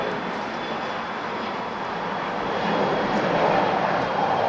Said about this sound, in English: to watch the blasting off of Virgin Atlantic Flight 142